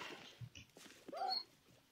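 A dog in modded Minecraft gives a few short whimpers and yips, close and fairly faint, with brief game sounds between them.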